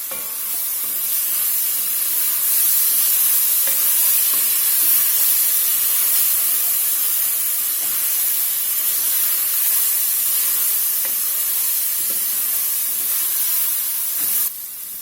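Minced garlic sizzling steadily in a stew pot with mushrooms, a continuous broadband hiss with occasional stirring scrapes, close and fairly loud with no talking.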